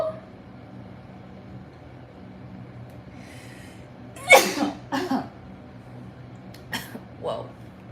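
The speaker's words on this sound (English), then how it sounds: "I have to sneeze." A person sneezes once loudly and close, with a sharp burst followed by a shorter exhale, then a quieter second sneeze-like burst a little later over a faint room hum.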